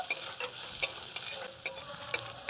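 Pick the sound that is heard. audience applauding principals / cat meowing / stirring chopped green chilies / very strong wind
stirring chopped green chilies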